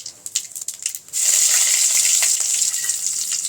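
Mustard seeds, cumin and ajwain dropped into hot oil, a loud steady crackling sizzle that bursts in after a second of softer clatter and keeps going alone.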